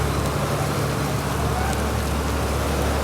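Heavy rain pours down on flooded streets in Surat in a dense, continuous hiss with a low rumble underneath, loud and close.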